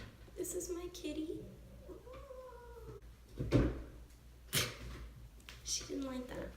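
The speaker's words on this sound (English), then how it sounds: "This is my kitty." A pet cat meows several times close by in a quiet room, with short plaintive cries spread across the moment while someone talks softly in between.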